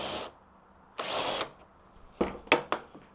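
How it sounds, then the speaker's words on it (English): Close power drill bursts: two short whirring runs, then several quick stuttering pulses as it bores a pilot hole into wood for a miter saw zero clearance insert. "drill through a pilot hole for all of those."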